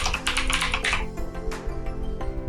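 Keys clack on a computer keyboard as a name is typed, a quick close burst of taps at first that thins to a few scattered keystrokes over a steady low background hum.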